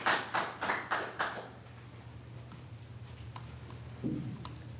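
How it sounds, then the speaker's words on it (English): Applause from the audience at a board of aldermen meeting: a short round of clapping opens the stretch and fades within about a second and a half, leaving quiet room tone with a few faint taps and a brief low bump near the end. "People were applauding, so he couldn't hear."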